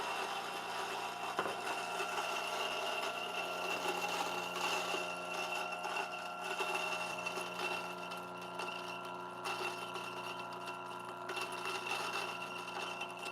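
A DF83 burr coffee grinder with 83mm burrs runs loudly, a continuous mechanical drone with a buzzing motor hum that holds steady throughout.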